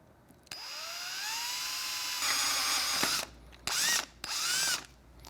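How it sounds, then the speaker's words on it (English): A power drill with a number 9 bit whines steadily for a few seconds drilling into a Triumph Street Twin handlebar, its pitch climbing as it bites in, then stops and restarts in two short bursts. "so that you're drilling straight in"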